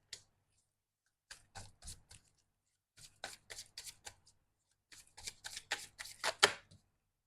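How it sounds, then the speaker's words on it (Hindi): Deck of tarot cards being shuffled by hand during a reading: several quick riffling bursts in uneven clusters, close and fairly quiet, separated by short silences, with no talk. "फिर से शफल करूंगी मैं एक बार कार्ड्स को"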